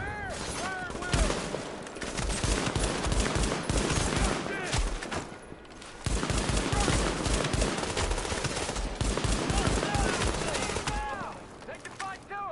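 Heavy gunfire in Tom Clancy's The Division, with continuous bursts of automatic weapons and rapid overlapping shots, loud and sustained across the scene while voices shout over the combat.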